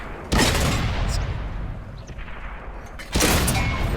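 Incoming tank gunfire in World of Tanks: two heavy, loud booming shots about three seconds apart, each followed by a rumbling tail, with no talking.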